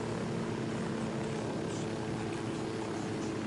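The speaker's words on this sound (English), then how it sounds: "And then maybe we can keep this chopper." A military helicopter in Ghost Recon Wildlands drones steadily throughout, a constant low engine and rotor hum with no talk.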